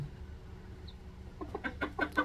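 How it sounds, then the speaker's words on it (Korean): A brooding hen that has hatched chicks clucks in a short run of soft, repeated calls near the end, over a quiet barn background. "가끔씩 이렇게 알을 품어서 병아리를 키워내는 암탉"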